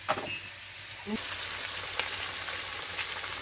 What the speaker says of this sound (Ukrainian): Процес іде, сковородка шкварчить, Леся Петрівна шкварочки вже витягує